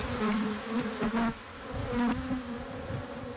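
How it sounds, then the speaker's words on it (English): Honey bees at a newly installed beehive buzz close by in a steady, droning hum, with individual wingbeats rising and falling as insects pass near. "We're going to install some bees for the kids to be able to see the process of beekeeping"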